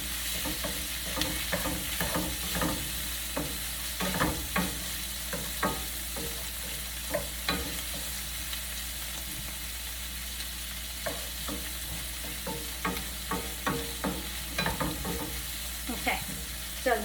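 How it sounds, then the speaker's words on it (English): Olive oil and food sauteing in a pan for lobster and shrimp, a steady close sizzle with frequent clinks and scrapes of stirring, no talk. "Okay, so now that is sauteing up."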